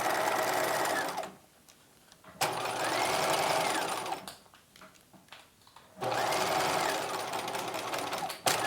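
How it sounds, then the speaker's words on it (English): A sewing machine stitches the side seam of a 1950s halter dress circle skirt in three loud, steady runs separated by brief pauses with light handling noise. "Pivot, and I'm going to just finish off this seam up to the waistline"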